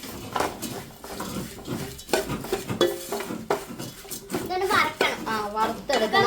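Flattened rice (aval) fries in ghee in a pan over a low flame while a spoon scrapes and stirs it in quick clattering strokes, close by, with several people, including a child, talking over it.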